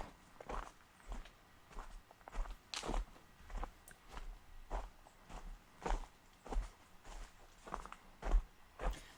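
Footsteps walking outdoors on a path near a large stone, a steady rhythm of soft, close crunching steps with no talk.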